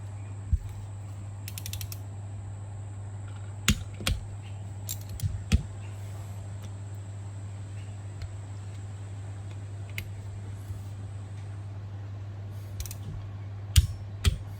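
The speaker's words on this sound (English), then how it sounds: "We'll have to split the torque wrenches because the little big one doesn't go down too far." Torque wrench tightening brake caliper bolts on a 1970 Mercedes-Benz 220, sparse sharp clicks and ratcheting ticks scattered over a quiet workshop with a steady low electrical hum, close and brief, no talk.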